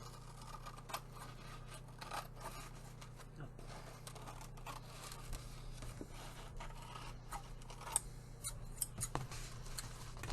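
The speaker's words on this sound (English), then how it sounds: "I will trim this napkin down to the edge." Scissors trim a paper napkin down to its edge for a stationery folder craft, giving quiet, close snips and rustling paper scrapes in a steady, irregular pattern with no talk.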